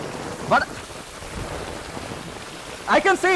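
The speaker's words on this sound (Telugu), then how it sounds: "భారీ వర్షంతో పాటు వడగండ్ల బాణ పడుతుంది నందు హైదరాబాద్ లో" Heavy rain mixed with hail falls on Hyderabad at night, a steady broad roar of water and pelting with brief voice fragments rising over it near the start and end.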